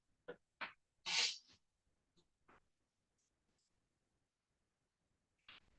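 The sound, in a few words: sneeze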